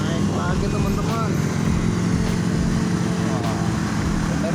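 A motorcycle engine strains while climbing a steep uphill road, giving a loud, continuous low rumble that stays steady throughout, with people talking over it.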